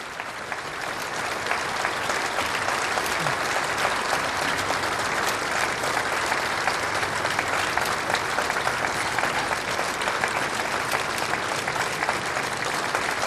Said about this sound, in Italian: È accompagnato dagli applausi di tutti gli sportivi e degli abitanti di